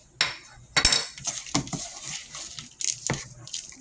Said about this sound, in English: And mix it in here.